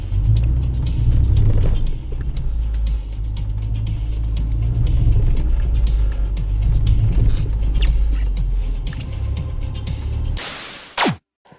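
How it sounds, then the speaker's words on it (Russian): A VW Golf 3 hatchback rolls into a garage, its engine a steady low rumble that holds for about ten seconds before cutting out, leaving a few faint thuds and clicks near the end. "Ну вот мы заехали в гараж."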